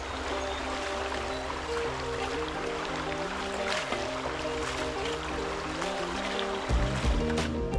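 Creek water at a gold prospecting site flows in a steady, close babble, accompanied by sustained tonal hum layers and a brief louder splash near the end.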